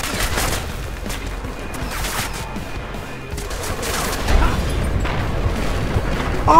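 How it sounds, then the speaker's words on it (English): A van blows up in the video game Deus Ex: Mankind Divided amid a dense, continuous barrage of gunfire-like blasts and booms, loud and chaotic throughout, with a heavier burst partway through. "Oh my god, I just blew up the van!"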